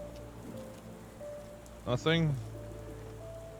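Steady, soft patter of rain in the Sherlock Holmes: The Awakened video game, continuing as a faint wash beneath a brief spoken line.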